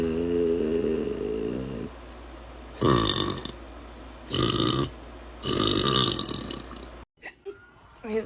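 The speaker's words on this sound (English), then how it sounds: "I feel like another burp's coming." A woman lets out a series of loud, drawn-out burps, about three long croaking belches in a row after a low rumbling one, close to the microphone, ending in a short gap and a faint sound.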